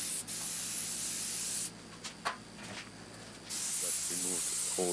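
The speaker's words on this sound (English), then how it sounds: "I washed it literally with brake cleaner." Brake cleaner sprays onto a 1964 Triumph TR4 engine block in two long, steady, loud hissing bursts separated by a quieter gap with faint knocks, and short scraping sounds near the end.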